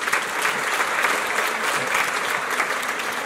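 An audience at a book festival talk applauds the interpreter, a dense, steady wash of many hands clapping together without a break for a few seconds.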